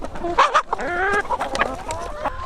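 Several chickens cluck and squawk close by, overlapping harmonic calls with a rooster-like drawn-out call in the middle, busy and continuous.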